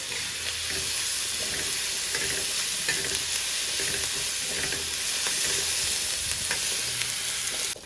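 Steady sizzling and frying in a pan as ingredients are roasted until reddish, with occasional stirring scrapes, continuous and fairly close, no voices.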